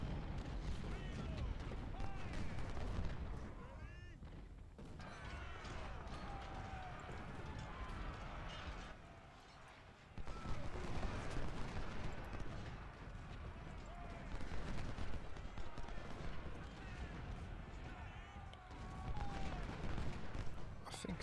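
Cannon and artillery fire in the Civil War strategy game Ultimate General: Civil War, a dense, continuous rumble of booming shots and battle noise running throughout, with occasional brief dips.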